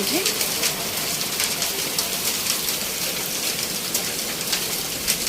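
Heavy rain pours down steadily, a dense, constant hiss of drops drumming on surfaces close by.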